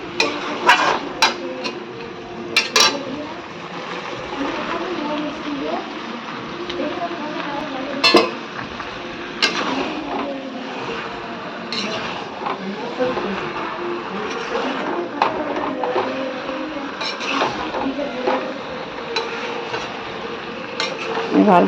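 Pointed gourd being stirred and fried with spiced masala in a pan: repeated scraping and clanking strokes of a spatula against metal over a low sizzle, loud and close throughout.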